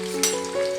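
Steamed vegetable pieces for a fasting snack frying in hot oil over a medium-low gas flame, a close steady sizzle with a brief louder crackle burst as pieces go in, no talking.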